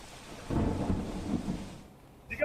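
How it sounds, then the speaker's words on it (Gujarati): Torrential monsoon rain over Surat, a dense low rumbling roar that swells and fades over a couple of seconds, with a brief brighter sound near the end and no talk. "વરસાદ વરસી રહ્યો છે।"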